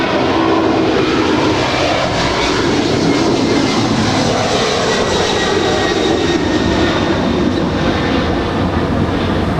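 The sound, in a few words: cargo jet departing on the runway at LAX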